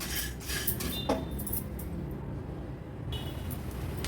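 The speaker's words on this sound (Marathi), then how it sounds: "आता हे पण मसाले मी भाजून घेते व्यवस्थित" Whole garam masala spices dry-roasting in a pan while being stirred, giving a steady scraping rattle with a few sharp clinks of a spoon against metal, close and continuous with no talking.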